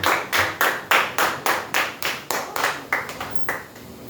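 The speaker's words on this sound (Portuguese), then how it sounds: "de palmas para o Senhor Jesus" A church congregation claps in steady rhythm to praise Jesus: about a dozen sharp, evenly spaced group claps at a brisk beat, fairly close and clear, with no talking over them.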